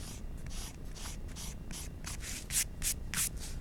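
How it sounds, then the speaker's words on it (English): An eraser rubs across a graphite drawing of a cosmetology curler along a straight edge, giving soft repeated scrubbing strokes that sharpen into a few brisk swipes near the end, close and faint over a low background hum. "Take the eraser, use a straight edge,"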